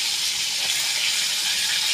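Rohu fish frying in a pan, giving a steady, close, bright sizzle that holds evenly throughout with no talking.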